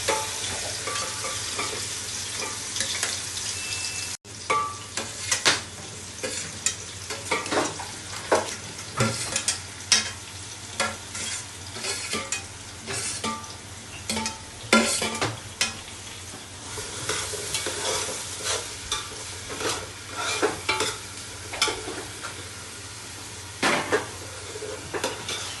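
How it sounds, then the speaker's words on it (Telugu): Onions, green chilli and curry leaves fry in hot oil for a crab curry, a close, continuous sizzle broken by repeated clinks and scrapes of a spoon stirring in the pan, with no talk. "ఆనియన్స్ ఫ్రై అవ్వాలండి"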